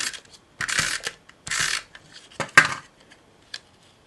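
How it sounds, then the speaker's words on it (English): A tape runner is pulled in several short rasping strokes to fix a paper tag onto a handmade birthday card, close and fairly crisp with small clicks between the strokes and no talking. "I'm going to attach the tag with tape runner."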